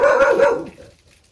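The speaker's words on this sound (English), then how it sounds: "they're barking at leaves" Dogs barking at blowing leaves outdoors, a short burst of close, loud barks that fades out quickly into quiet.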